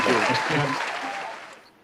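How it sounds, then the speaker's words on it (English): Applause from an audience greeting an actor and speaker taking the stage at a spotlight talk event, a broad wash of clapping that starts full and gradually fades away over a couple of seconds. "Round of applause, ladies and gentlemen."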